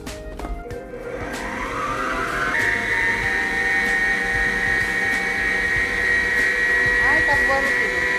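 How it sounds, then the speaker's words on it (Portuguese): An electric mixer beats coffee, sugar and hot water with a loud, steady motor whine. The whine builds at the start and then holds close and continuous to the end. "vamos pôr também na batedeira"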